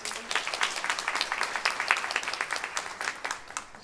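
Steady applause from an audience, many hands clapping at a moderate distance, fairly soft and even throughout.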